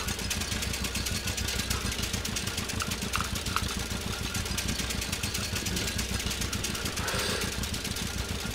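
A tractor engine in a farming video game runs steadily at a low, throbbing idle, with a rapid knocking rhythm that stays constant and fairly loud throughout, no talking over it.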